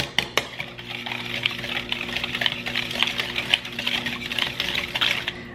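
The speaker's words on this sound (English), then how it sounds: "I'm gonna go ahead and whisk this. Getting all those really nice chunks of brown sugar out." Whisk scraping and clinking in a bowl while breaking up brown sugar chunks in a mixture for pumpkin oatmeal muffins, with rapid, steady rhythmic tapping close by and no talk.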